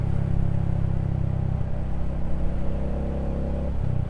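Royal Enfield Hunter 350 motorcycle with a 16-tooth sprocket upgrade pulling smoothly in third gear, a steady close low engine rumble with wind, easing slightly near the end; no talk.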